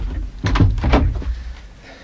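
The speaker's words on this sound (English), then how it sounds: "come on, open the door." A door being opened as a radio drama sound effect, with close, muffled thumps and creaks over a low room rumble, short and with no talk.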